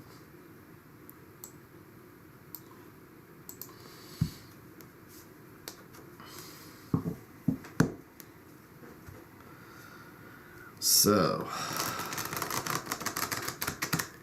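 Soft papery rustles and scattered light taps build into a brisk burst of riffling tarot cards, followed by quick repeated flicks and shuffles at close range.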